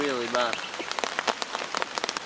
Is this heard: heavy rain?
yes